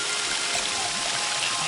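Small waterfall in the Shadow Man Remastered video game, a steady broadband rush of flowing water that holds even and continuous throughout, with no voices over it.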